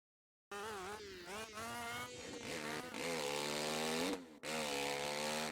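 A two-stroke motorbike engine from the LCQ Studios motocross game buzzes loudly and alone, its pitch repeatedly rising and falling as the throttle is worked, with a brief cut near the end before revving back up.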